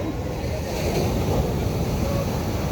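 Rough sea waves slap and wash against a small outrigger boat, a constant loud roar mixed with heavy wind buffeting, surging slightly midway, with faint voices.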